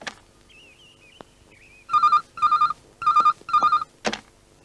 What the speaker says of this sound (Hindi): राजू को फोन लगा।